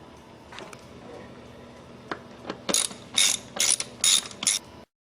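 A ratchet retightens the rocker cover bolts on a VTEC Honda Accord, with a few light clicks followed by several quick, close bursts of ratcheting before it stops.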